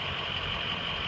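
Ford F250 pickup truck engine running at high idle, a steady, close, continuous rumble with no variation and no talking.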